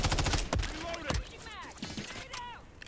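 Rapid gunfire in the Modern Warfare 3 beta, with a quick string of shots at the start and scattered shots later, while people talk excitedly over the gameplay.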